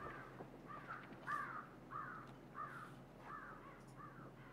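A series of harsh crow caws in the video game Hunt: Showdown, about seven evenly spaced calls, fairly faint and somewhat distant over a quiet background.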